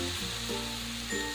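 Several banana pancakes cooking together on a large hot tawa, giving a steady soft sizzle with faint low hum throughout, no voices.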